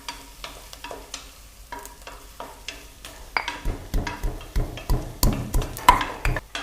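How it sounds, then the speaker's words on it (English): Ginger is pounded in a mortar with a pestle as mutton curry cooks, giving a steady run of sharp, rhythmic thuds that grow louder and quicker over a soft background sizzle. "Let's crush the ginger first"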